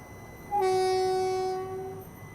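An Agra–Ahmedabad special train departing Jawar station on a single-line section sounds its horn in one loud, sustained two-tone blast of over a second, close by, over low background rumble and with no speech.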